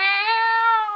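A cat lets out a single long, clear meow, close and loud, held steady for about a second with nothing else around it.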